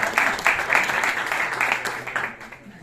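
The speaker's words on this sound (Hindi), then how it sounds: "तो उनके लिए भी जोरदार तालियां." Loud applause from the audience at an amateur singing group's first public performance, with a bright steady crackle of many hands that rises and falls in waves, over a faint murmur of talk.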